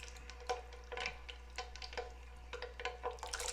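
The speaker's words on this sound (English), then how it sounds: "So right now I'm gonna start to fry my potato" Potatoes with black pepper frying in a pan for South Sudanese gheema, with a steady soft sizzle and a few faint clicks of stirring utensils against the pot, close and fairly quiet.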